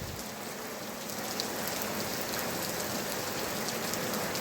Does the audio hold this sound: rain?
yes